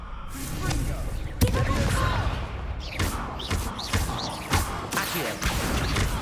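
Spell explosions from a Confringo blasting curse in the Hogwarts Legacy video game, several sharp bursts and thuds at irregular intervals within a dense game soundscape during a duel.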